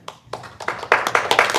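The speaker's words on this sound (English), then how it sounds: "Please refrain from clapping," A small group in a public hearing room breaks into scattered clapping that starts sparse and quickly thickens into brief, close applause.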